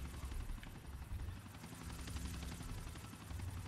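Helicopter in the video game GTA IV, a steady rhythmic rotor thump with engine drone, moderately close and continuous over the short clip, with no speech.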